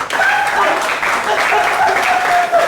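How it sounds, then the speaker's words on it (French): Congregation at a French-language church service clapping together in sustained applause, a dense steady wash of hands close by that lasts the whole stretch without a break. "Acclame Jésus"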